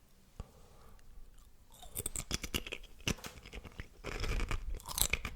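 Crunchy Korean fish snack being chewed up close, with a string of sharp, crackly crunches that grow denser and louder toward the end, no talking.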